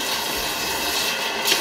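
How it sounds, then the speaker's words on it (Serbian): Water runs steadily from a bathroom tap, heating up before shaving: a constant hissing stream, close and even, with no talk over it. "Voda je uključena da bude topla."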